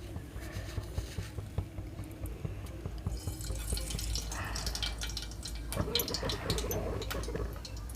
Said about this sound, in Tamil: இப்போ கடுகு போட்டுக்கலாம்.